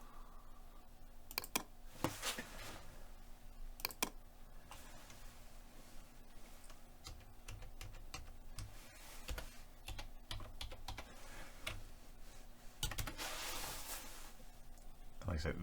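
Typing on a computer keyboard to add text for a laser-cut phone and remote holder project: scattered near clicks and short runs of keystrokes over a low steady hum, with someone talking quietly.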